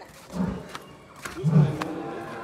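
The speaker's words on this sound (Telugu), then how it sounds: "బ్రో, లైన్ అరుస్తుంది." Lion at Assam State Zoo in Guwahati giving two deep, grunting roars about a second apart, moderately loud over outdoor background noise.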